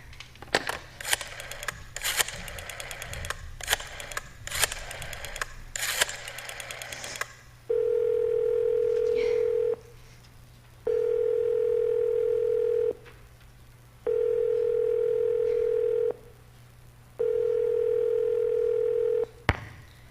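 In a radio drama, a telephone is dialed with a run of rapid rotary clicks, followed by a repeating ringback tone in four steady, evenly spaced buzzing pulses with short silences between them, clear and close.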